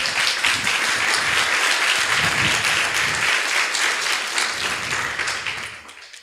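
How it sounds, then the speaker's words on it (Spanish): Church congregation applauding during a Spanish-language sermon, a dense, loud wash of many hands clapping that holds steady and then tapers off near the end. "Denle un aplauso al Señor"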